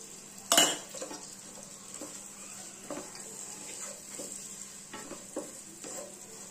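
Onions and chilli frying in a pan while a metal spoon stirs them: a sharp clank of utensil on pan, then a continuous sizzle with scattered scraping stirs, close and alone.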